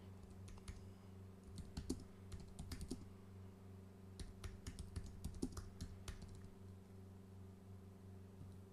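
Keys clatter in two quick bursts as someone types a search on a computer keyboard, close and fairly quiet, with pauses between and a steady low hum underneath.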